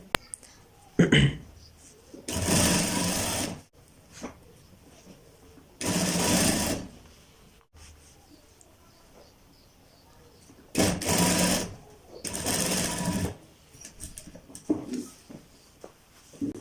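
A sewing machine stitches a designer cuff in four distinct close bursts of rapid whirring, each lasting a second or two, separated by pauses with faint handling sounds.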